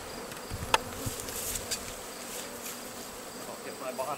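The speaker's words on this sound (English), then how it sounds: "move the actual hive of bees" A honey bee swarm being moved from a bait hive into a Langstroth hive produces a continuous, fairly faint buzzing drone. Individual bees zip past close by, and there are a few soft knocks.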